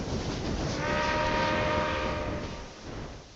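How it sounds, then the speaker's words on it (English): Big freight train rolling along in Railway Empire 2, a steady rumbling clatter of wagons with a sustained horn-like tone in the middle, loud and continuous with no talking. "This is our big freight train."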